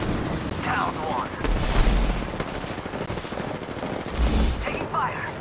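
Gunfire in a shooter video game: rapid bursts of shots mixed with low booms, heard alongside in-game voice callouts.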